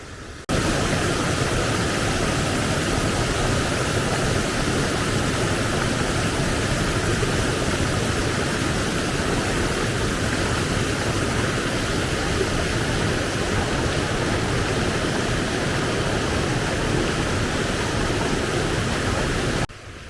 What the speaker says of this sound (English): Sound of the water there is very loud